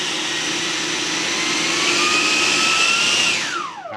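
A 90mm electric ducted fan on a Freewing F-4 Phantom jet model spools up on a soft start, a loud close whine rising steadily in pitch, then cutting off and winding down at the end.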